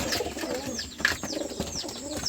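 Rajshahi Giribaz pigeons coo repeatedly at close range, soft rolling calls overlapping against a steady background of loft ambience.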